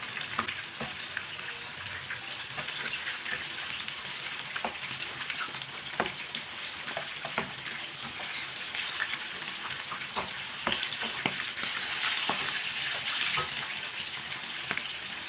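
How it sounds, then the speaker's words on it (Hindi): Chicken roast pieces frying in a pan make a soft, constant sizzle dotted with small crackles and pops, fairly quiet and unbroken throughout. "ये वाली साइड से भी 3 मिनट के लिए फ्राई होने देते हैं"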